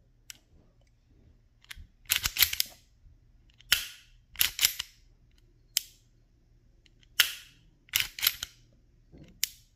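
Smith & Wesson Bodyguard 2.0 pistol trigger being worked: a series of crisp, close mechanical clicks and snaps, some in quick pairs, spaced irregularly over a quiet background.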